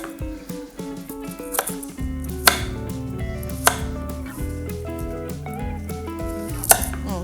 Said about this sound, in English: I'm just gonna chop these up